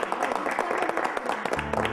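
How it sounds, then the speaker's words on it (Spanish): A class of students in a first aid lesson breaks into brief, dense clapping for a classmate named Alicia, close by and lively throughout. "un aplauso para Alicia"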